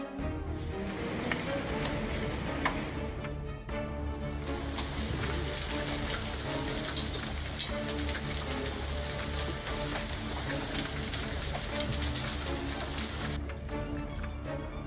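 Hail pours onto Paris streets in a severe hailstorm, a dense, steady pattering roar that stays loud and unbroken throughout with no voices.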